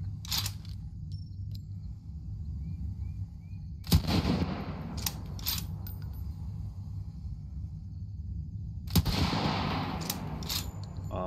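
Gunfire from the zombie shooter game Undead City comes in two sharp, loud bursts a few seconds apart, each with a ringing tail over a low steady game hum.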